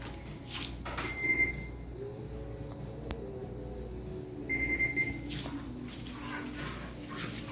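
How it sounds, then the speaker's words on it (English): Two steady electronic beeps from a treadmill, each lasting about half a second and spaced a few seconds apart, sound over a constant mechanical hum and rumble. "It does keep beeping."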